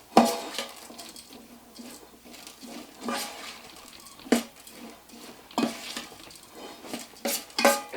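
A spoon stirs ground spices including cumin in a bowl, giving repeated scraping and clinking strokes with sharper metallic knocks toward the end, close and clear without speech.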